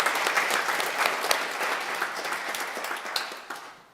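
A church congregation applauds the choir and intercessory prayer team during a Sunday service, starting as loud, dense clapping and gradually thinning out to a few scattered claps at the end.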